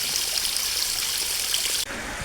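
Water runs in a steady, hissing stream while shrikhand is being made in a small dairy kitchen. It cuts off abruptly near the end and gives way to a duller, quieter rush, with no voices.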